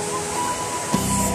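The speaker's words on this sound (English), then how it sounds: "Waterfalls." A waterfall gives a dense, steady rushing roar, fairly loud and close throughout, with no voices over it.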